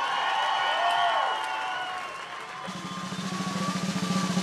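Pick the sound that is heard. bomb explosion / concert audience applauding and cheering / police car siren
concert audience applauding and cheering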